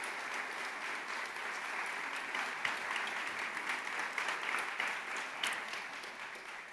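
An audience of association members at an annual civic meeting applauds steadily for newly elected directors, a dense, even round of clapping throughout.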